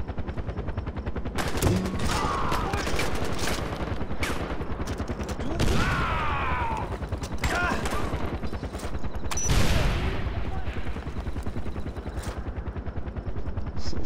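Gunfire in Far Cry 4, rapid bursts of automatic shots rattling continuously with heavier blasts and sweeping whooshes layered in, busy and loud throughout.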